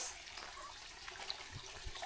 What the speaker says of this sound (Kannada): ಇದೇ ನಮ್ಮ ಒಂದು ಸಣ್ಣ ಫಾಲ್ಸ್, ನಾವು ಅಂದ್ಕೊಂಡಿರೋಂಥ ಸಣ್ಣ ಫಾಲ್ಸ್.